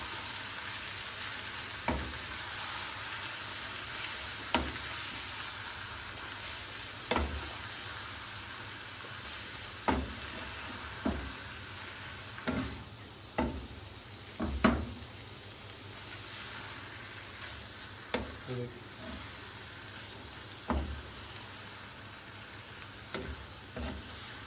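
Vegetable chicken chow mein noodles stir-fried and tossed in a hot pan, a steady sizzle broken by repeated sharp scraping clacks of the spatula every second or two.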